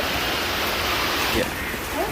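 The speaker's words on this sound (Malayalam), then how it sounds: "ഇത്ര നേരം വെയിലായി നിന്നിട്ട് ഇപ്പോഴേ മഴ തുടങ്ങിയിട്ടുണ്ട്. നല്ല മഴ." Heavy rain pours in a dense, steady hiss throughout, loud and unbroken.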